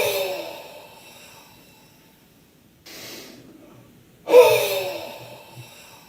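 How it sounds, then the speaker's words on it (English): Two breathing cycles from a chest-clearing exercise: a sharp inhaled gasp, a quiet pause, a short soft intake, then a strong forceful huff out that fades, all close and alone with no talk. "Or take a shorter breath in, followed by a long huff out."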